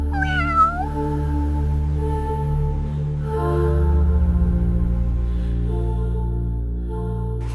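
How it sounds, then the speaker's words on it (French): A cat meows loudly and steadily in long drawn-out tones, one sharp rising cry near the start and then sustained, wavering caterwauling close up with no talk. "elle s'est tournée vers les autres et a miaulé quelque chose"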